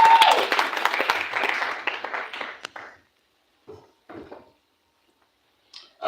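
Audience applause at a Rotary club installation ceremony, a dense burst of clapping that fades out over about three seconds, followed by a few brief scattered sounds.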